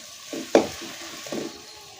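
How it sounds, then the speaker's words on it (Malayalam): A spatula stirs a frying quail-egg mixture in a pan, giving a couple of soft scraping strokes and one sharp knock against the pan over a quiet sizzle. "ഒരു 4 മിനിറ്റോളം ഇടയ്ക്കിടയ്ക്ക് ഇളക്കി കൊടുക്കണം"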